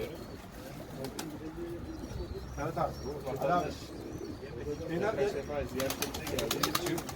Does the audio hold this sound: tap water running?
no